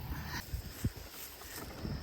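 Strong wind blows outdoors, a steady low rumble of gusts buffeting the microphone for the whole stretch, with a few brief thumps and no voices.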